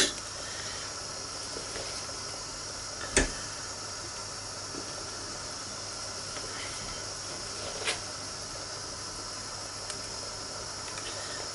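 A pot of beef stew with dumplings simmers on the boil, giving a steady soft hiss and bubbling throughout, with one or two faint clicks and no talk.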